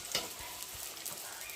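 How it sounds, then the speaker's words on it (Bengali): A small batch of onion fritters (peyaji) frying in oil in a home kitchen, giving a steady close sizzle with soft stirring scrapes throughout. "এখন পেঁয়াজি ভাজছি"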